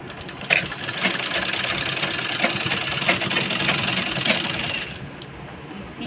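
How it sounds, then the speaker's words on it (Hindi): A sewing machine stitches a half-inch seam joining the shoulder of a waistline belt blouse, running in a steady, close, continuous mechanical whir with faint ticking for about five seconds before it stops. "इसको आधी आधी इंची की स्टिचिंग करेंगे इस तरह से"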